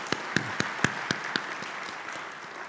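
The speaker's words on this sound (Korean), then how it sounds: "우리 크게 한번 박수하겠습니다." A church congregation applauds at a Sunday praise service, with several sharp claps standing out at first before the clapping thins and fades into a quieter room.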